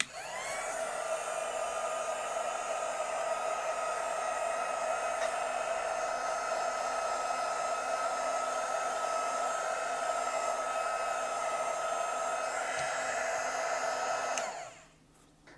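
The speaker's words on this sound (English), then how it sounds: "So we're going to need a heat gun for this." A heat gun blows a steady, loud roar of hot air continuously with a constant whine, then cuts off abruptly near the end.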